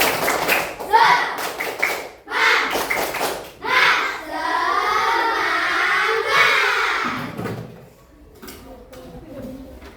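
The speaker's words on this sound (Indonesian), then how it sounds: "kita tepuk semangat dulu. Tepuk semangat." Classroom of children doing a rhythmic spirit clap, bursts of claps in patterned groups mixed with children's chanting voices, fairly close and loud, with pauses between phrases.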